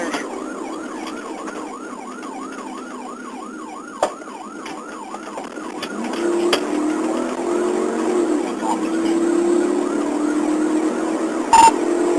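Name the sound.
police siren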